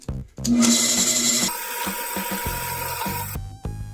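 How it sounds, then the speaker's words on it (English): A drill press bores a hole through a piece of scrap wood, with a loud, steady whirring grind that starts abruptly and runs for about three seconds before cutting off, then a brief lighter motor hum. No one speaks. "put it in your drill press, and drill a hole through a piece of scrap material"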